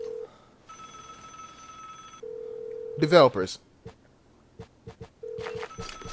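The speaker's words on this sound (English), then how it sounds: "How's a phone ringing and on dial tone simultaneously?" Telephone in the video game Vigor rings in short electronic bursts while a steady dial tone hums at the same time; a voice briefly speaks between the tones.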